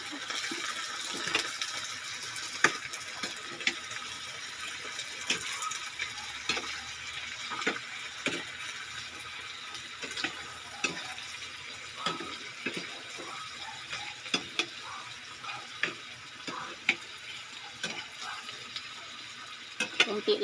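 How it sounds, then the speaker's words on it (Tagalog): Vegetables stirred in a frying pan while cooking at home, giving a steady soft sizzle with repeated scraping and clinking of the spatula throughout, close and moderately loud, with no talking. "Yan, halo-haloin natin."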